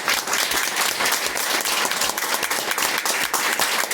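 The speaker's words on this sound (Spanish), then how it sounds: "Dele palmas al Señor." A church congregation claps loudly and rhythmically at a service, a dense, close round of hand claps with a faint murmur of the crowd underneath.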